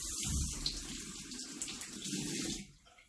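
Makeup brushes rinsed under a running tap, a steady splashing stream of water into a sink that fades out near the end.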